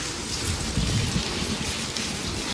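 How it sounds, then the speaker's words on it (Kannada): Heavy rain pours down steadily, a close, dense hiss of drops drumming on surfaces with no voices over it. "ನೋಡಿ ಮಳೆ ಬರ್ತಿದೆ"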